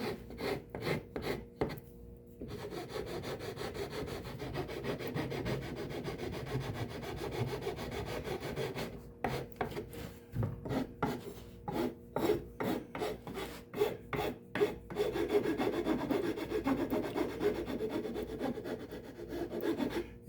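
A rasp files down the mahogany top plate of a viola in steady back-and-forth strokes, a close, dry scraping rhythm broken by short pauses, with no voices.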